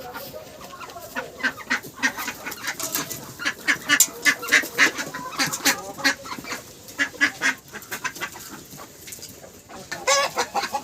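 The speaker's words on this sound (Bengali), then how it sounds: "এই হচ্ছে কি আমার সব হাঁস মুরগি।" Domestic ducks and native chickens cluck and call in a steady, overlapping stream of short bursts close by, with a few louder squawks rising above the flock.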